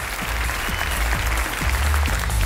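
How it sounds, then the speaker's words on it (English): A large theater audience at a magic awards show applauds steadily and loudly as a volunteer walks up onto the stage, a dense, continuous wash of clapping with a low rumble of crowd noise beneath it. "let's give her a big round of applause as she makes her way up on the stage"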